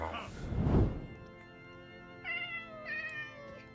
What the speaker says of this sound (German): the cat sounds in Minecraft are just basic recordings